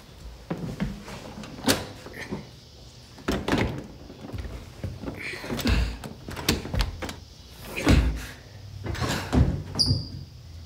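A locked door is rattled and shoved in repeated bursts of thumps and knocks, some sharp and loud, with quieter shuffling between them and no speech.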